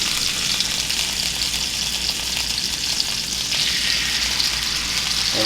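Duck meat sizzles and fries in hot olive oil in a pan, a steady, bright crackling hiss that runs without a break at moderate volume, with no talking.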